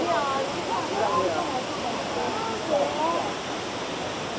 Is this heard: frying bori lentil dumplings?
no